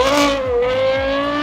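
A V10 Audi R8 with a Valvetronic exhaust revs on a dyno, giving a loud, close, sustained high-pitched howl that holds a steady tone with slight pitch wavering.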